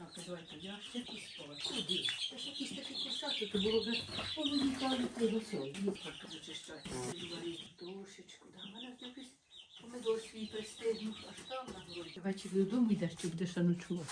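Chickens clucking and peeping continuously close by, with a person talking over them through most of the clip.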